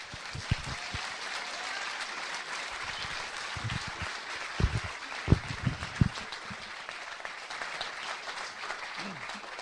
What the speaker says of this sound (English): So please give a big round of applause for Denis Canavan.